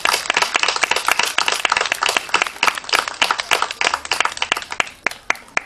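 Outdoor crowd at a Children's Day event in a park in Pruszków claps loudly, dense individual hand claps close to the microphone, then thinning out toward the end.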